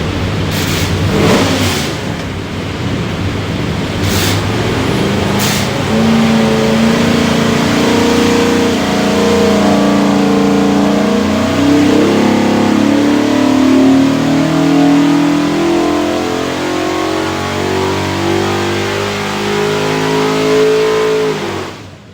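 A Ford 427ci V8 in a Superformance GT40 roars through a dyno pull, loud and continuous, its engine note sweeping upward in pitch for about twenty seconds with no talk over it.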